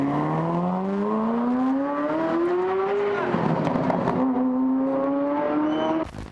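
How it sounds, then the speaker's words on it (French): A Ferrari F40 sports car engine revs loud and close, its pitch climbing steadily, dipping briefly at a gear change, then rising again before cutting off abruptly. "Voici la Ferrari F40, qui célébrait les 40 ans de la marque Ferrari."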